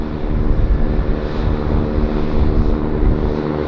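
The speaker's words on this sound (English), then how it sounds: "We've got a Beech 1900D sitting running as engine, so that's the noise that we're hearing behind me." A Beech 1900D turboprop sits at an airport with its engine running, a loud, steady droning roar that holds without a break throughout.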